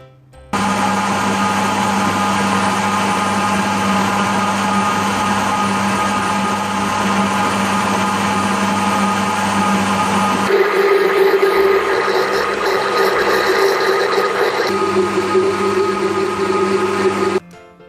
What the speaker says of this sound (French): vous allez mixer le tout avec le blender